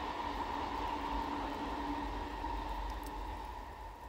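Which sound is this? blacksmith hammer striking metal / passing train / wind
passing train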